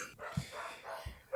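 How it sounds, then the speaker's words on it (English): Neighbour's dogs barking at night, a couple of short, dull barks standing out over a steady background hum, sounding somewhat distant and muffled. "my neighbor's dogs are barking."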